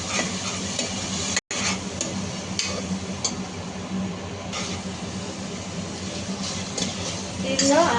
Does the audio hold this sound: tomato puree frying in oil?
yes